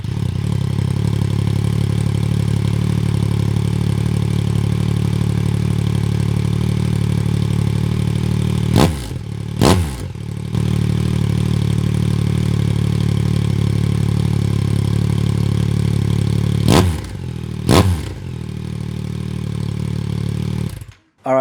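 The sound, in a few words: Yamaha MT-09 motorcycle idling with aftermarket exhaust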